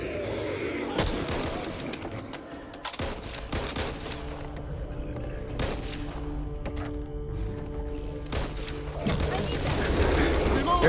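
A12 shotgun blasts in the zombie shooter Back 4 Blood, heavy booming shots scattered among chaotic gunfire and clatter from other players, with voices talking over the action.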